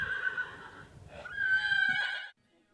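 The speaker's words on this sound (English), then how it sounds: "The sounds of these horses are music to the ears of Alison Clapton." Horses neighing on a farm: two loud, close whinnies with a short pause between them, followed by quiet.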